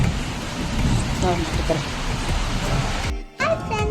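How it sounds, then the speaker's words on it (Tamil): Heavy rain pouring outside, a dense continuous hiss of downpour that cuts out abruptly near the end before resuming with a voice. "அதனால இப்ப செம்ம மழை பெய்யுது."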